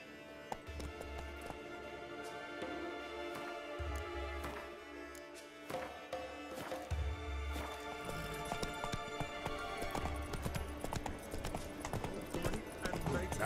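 Roach the horse gallops in The Witcher 3, a steady rhythmic clip-clop of hooves running close and loud, with game music and a voice speaking over it at times.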